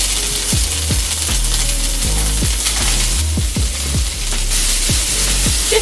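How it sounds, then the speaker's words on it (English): Strands of spaghetti squash are stir-fried in a hot pan, giving a loud, constant sizzle dotted with repeated scraping clicks from a utensil moving the food. "Just stir fry it for a couple minutes."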